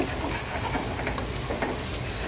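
Tomatoes sizzle and crackle in hot oil with frying spices for beef pulao, a steady close-up hiss with light stirring scrapes and no talk.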